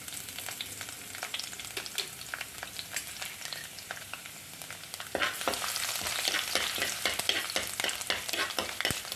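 Ginger and garlic sautéed in hot oil with mustard seeds for prawn theeyal, a continuous sizzle with rapid popping and spatter that grows louder and denser halfway through, no voices.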